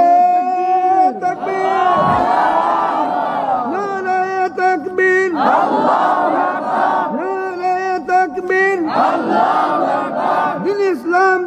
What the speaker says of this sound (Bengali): একজোরে তাকবীর দিয়ে দেন